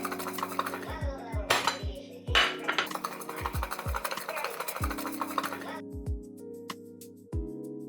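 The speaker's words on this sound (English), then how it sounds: "place the cloves in a bowl, cover it, and shake it hard for about 10 to 20 seconds" Garlic cloves shaken hard in a covered bowl, giving repeated rattling, clattering knocks in quick bursts, fairly close and moderately loud, with a few short pauses between rounds of shaking.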